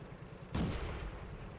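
A single tank cannon shot fired in World of Tanks, a sharp broadband blast that rings out briefly over a steady low rumble of engine and ambience, fairly distant and moderate in level.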